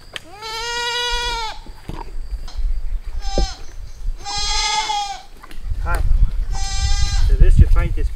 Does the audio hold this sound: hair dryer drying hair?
no